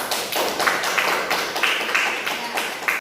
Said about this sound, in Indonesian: beri aplaus kepada temannya